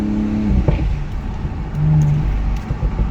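Engine of a 2022 Audi S5 Sportback fitted with an 034 intake, a close revving rumble with rising turbo whine and spooling, surging and easing in short bursts.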